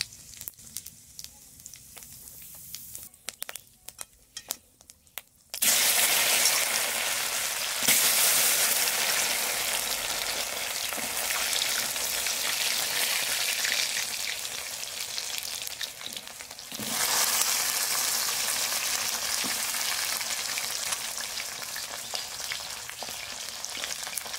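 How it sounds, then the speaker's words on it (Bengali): Taro (kochurmukhi) frying in hot oil, seasoned with dried red chilli, for a parshe fish curry; a loud, steady sizzle and crackle that swells sharply after a quieter start, with occasional stirring scrapes and no talk. "এবার কচুরমুখীটা ভালোভাবে ভেজে নেব।"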